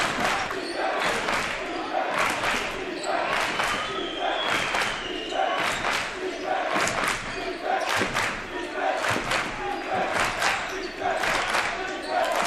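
Home fans cheer and shout in a high school gym during a Division 1 basketball playoff quarterfinal, a steady loud crowd roar punctuated by rhythmic ball bounces and sneaker thuds.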